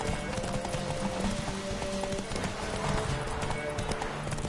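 Galloping hooves clip-clop steadily on a horse in The Witcher 3, with a faint whinny and a game music bed running beneath; a voice briefly calls out over the hoofbeats.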